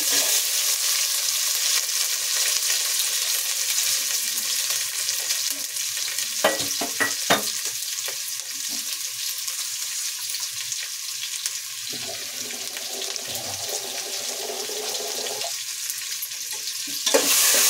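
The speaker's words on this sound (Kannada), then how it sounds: "ಎಲ್ಲವನ್ನು ಚೆನ್ನಾಗಿ ಫ್ರೈ ಮಾಡ್ಕೊಳ್ಳಿ ಒಗ್ಗರಣೆಯಲ್ಲಿ." Onion, green chillies and garlic-ginger paste fry in a hot tempering for pongal, a continuous close sizzle with brief stirring scrapes and clinks of a spoon against the pan.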